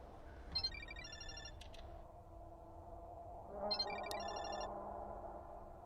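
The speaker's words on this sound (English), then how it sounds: "ringtone, I think it's coming from the balcony." A phone ringtone chimes in two bursts of repeated electronic tones, fairly faint, over a low ambient hum.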